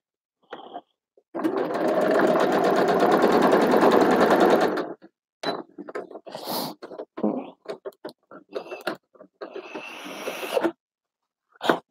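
A sewing machine stitches fabric in one loud, continuous whir lasting about three seconds. It is followed by short handling noises and brief bursts of sound.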